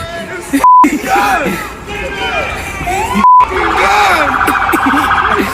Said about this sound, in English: note how there's a guy in the background hollering and cheering him on